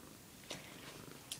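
A fluffy cat snores and purrs softly under bed covers, a faint low rumble with a couple of brief clicks, close and quiet.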